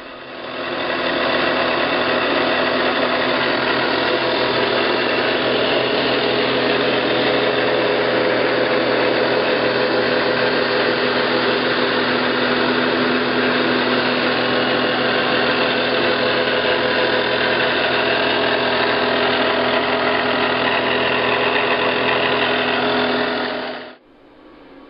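A 10-inch by 50-inch Atrump CNC vertical mill, model 3VK with a four-axis Centroid inverter-DC control, runs its spindle at top speed of 5,172 RPM, giving a steady, loud, even whine and hum that holds unchanged and then cuts off near the end.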